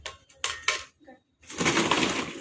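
Metal or steel bowls clink and clatter as they are picked up and handled, a few sharp knocks early on followed by a denser stretch of rattling near the mic.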